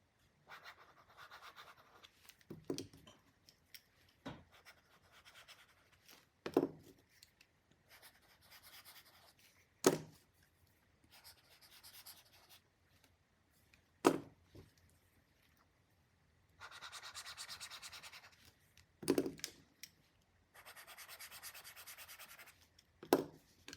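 A Lamy EMR pen writing on an e-ink tablet screen, soft scratchy strokes in short bursts with occasional sharper taps and quiet gaps, close and faint.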